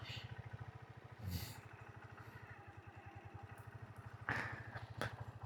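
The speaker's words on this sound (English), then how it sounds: "Now my motorcycle is working perfectly." A motorcycle engine runs at a steady, even putter on a ride through Yunnan, China, with brief gusts of wind noise over it.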